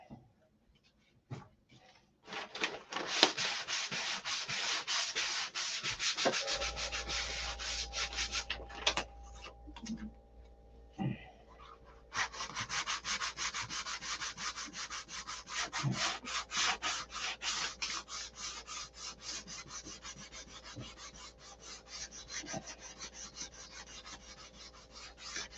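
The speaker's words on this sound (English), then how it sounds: "That sanded out good." A wooden canopy is sanded by hand with steady rasping strokes, close and fairly loud, pausing briefly midway, while a low steady hum runs underneath from a few seconds in.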